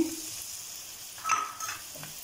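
Green chillies dropped into sizzling masala for achari bhindi, a brief hiss of frying with a short louder burst midway as they hit the hot pan, close and without talk.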